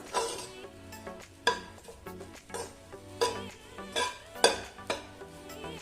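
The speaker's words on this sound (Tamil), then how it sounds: "இப்போ தேங்காய் லைட்டாக ரோஸ்ட் ஆயாச்சு" Grated coconut roasting in a pan while being stirred, with rhythmic scraping strokes and light clinks of a utensil against the metal over a faint background, close and quiet.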